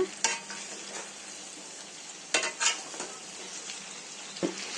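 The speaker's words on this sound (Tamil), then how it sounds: "நல்லா அடியில இருந்து கிளறுங்க" Okra (lady's finger) and onion frying in a pan with a steady sizzle, broken by a few sharp scrapes and clinks of a spoon stirring against the metal, close up with no talking.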